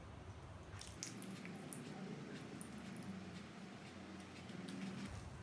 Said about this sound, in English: This is the second time the rain is coming.